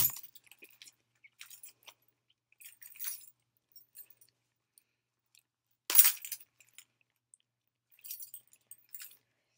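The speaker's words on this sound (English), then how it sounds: "So I think I should be able to use my key to open it," Keys jangling while being used to pry open a package of socks, bursts of metallic clinks and rattles scattered over several seconds with quiet gaps, close and fairly crisp.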